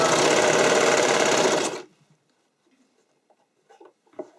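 A sewing machine runs a steady, loud burst of stitching along the side seam of a stretch skating dress bodice, then stops abruptly, leaving near silence with a few faint handling taps.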